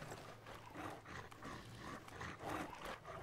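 A dog in the horror game Silent Hill: Homewrecker makes faint, quiet whimpering and panting noises in irregular bursts, low in level against a soft background.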